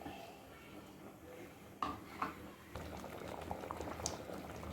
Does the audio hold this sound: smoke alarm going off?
no